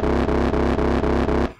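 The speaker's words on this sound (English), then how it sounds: "Just adding a pulsing ARP thing that's synced to the door tempo" A pulsing arpeggiator on a SUB37 synthesizer synced to tempo, with low-pass filter and wide reverb, repeating in six even, distorted pulses before cutting off and fading.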